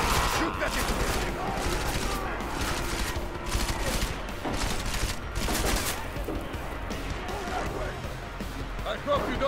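Video game gunfire crackles in dense volleys with crashes and mechanical clatter throughout, while people talk excitedly over the shooting.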